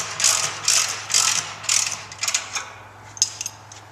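Ratcheting clicks from tightening the clamp ring nut on a Vibroscreen vibratory separator, several close bursts of rapid metallic pawl clicks in a steady rhythm, thinning into sparser clicks at the end.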